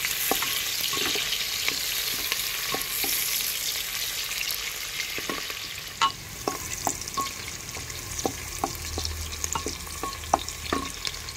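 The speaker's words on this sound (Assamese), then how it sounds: "পিঁয়াজখিনি মই ভাজিম" Onions fry in a pan as oil sizzles steadily, with a crackling hiss throughout and sharp scraping taps from stirring scattered over it.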